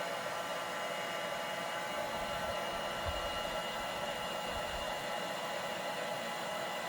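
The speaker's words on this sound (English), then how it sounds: "for me I use a heat gun. So let me just heat it up" A heat gun blows hot air while warming a Dbrand skin on a Nintendo Switch OLED, a constant close whooshing hiss with small fluctuations throughout, no speech.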